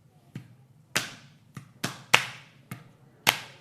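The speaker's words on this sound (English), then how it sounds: "Drummer, would you like to give them a beat at least?" A drummer at a school board meeting strikes sharp, separate hits at uneven intervals, about seven of them, close and fairly loud with quiet gaps between.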